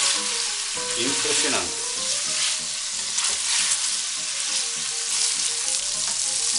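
Pieces of rabbit browning in a hot frying pan for a garlic rabbit dish, giving a steady, loud, close sizzle and crackle with occasional stirring scrapes, and a brief spoken word over it.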